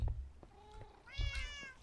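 Two bursts of meowing from a tamed cat in a video game, near and clear, the second call longer and more tonal, with soft low thumps in between.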